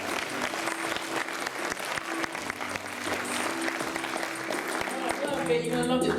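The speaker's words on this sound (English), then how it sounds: "Give her a round of applause." A theater audience at a magic show applauds as a volunteer returns to the stage, sustained clapping from many hands at moderate distance, with a host's voice and a brief musical sting over it.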